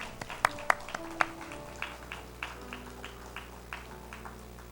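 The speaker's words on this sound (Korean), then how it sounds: "하나님께 영광의 박수를 드리겠습니다" A church congregation gives a round of applause during a Sunday morning worship service, several sharp claps standing out at first, then lighter scattered clapping fading over a low steady hum.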